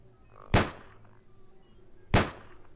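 Two sharp in-game gunshots from the stealth shooter Sir, You Are Being Hunted, spaced about a second and a half apart, each a loud broadband crack with a quick decaying tail over a quiet background.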